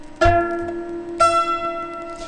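Two plucked mandolin notes an octave apart, one after the other, each ringing clearly and slowly fading; bright and close with no voices.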